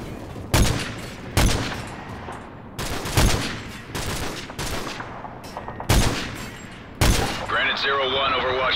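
Gunfire from Call of Duty: Modern Warfare 3 on PC: about seven loud, sharp shots fired at an uneven pace, each with a booming tail, and a burst of electronic chatter near the end.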